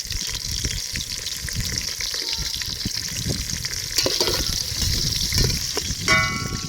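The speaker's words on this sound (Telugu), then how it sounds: "ఉల్లిగడ్డ వేసిన తర్వాత బాగా ఎర్రగా వేపాలి. తర్వాత వచ్చేసి కరివేపాకు వేయాలి." Onions and curry leaves for chicken fry sizzle in oil over a wood fire, a steady close crackle broken by stirring scrapes and a brief metallic clink near the end, with no voices.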